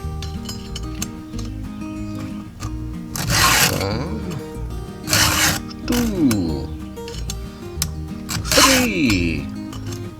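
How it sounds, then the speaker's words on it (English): Several harsh rasping strokes of a sharpener filing a chainsaw chain, evenly spaced and close, with a man counting aloud between them. "4 strokes with the chainsaw sharpener."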